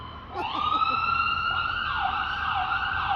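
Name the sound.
ambulance siren passing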